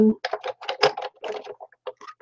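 Rapid, uneven clicking from a card-making die-cutting machine, a run of close, crisp taps with short gaps between them and no talk over it.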